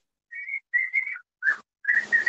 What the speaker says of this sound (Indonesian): Itu suara siapa tuh? Ada suara itu ada burung.